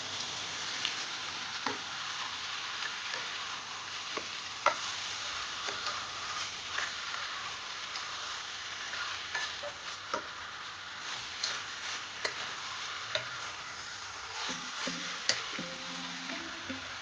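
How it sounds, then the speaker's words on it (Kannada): Chicken pieces sizzle and fry steadily in a pan for a Kannada-style tawa fry, a continuous close hiss with occasional small pops and light ticks throughout, no talking. "ಇವಾಗ ಇದನ್ನು ಫ್ರೈ ಮಾಡೋಣ"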